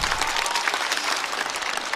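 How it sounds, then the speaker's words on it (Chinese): A stand-up comedy show audience claps steadily, the dense applause filling the room at an even level from start to finish. "再次掌声送给梦洁"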